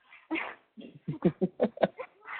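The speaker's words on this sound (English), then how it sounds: "Oh, in here? That'll be our dog, yeah." A pet dog whimpers and yips in a series of short, close, pitched whines and squeaks with brief gaps between them.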